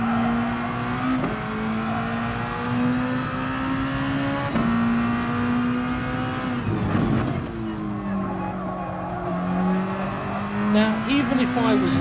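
Race car engine in a Barcelona racing game, a loud sustained high-pitched drone with a few brief, gentle dips in pitch where the throttle eases, as someone talks over it.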